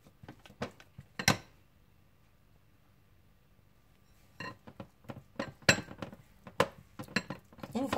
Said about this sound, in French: Je commence par travailler le beurre.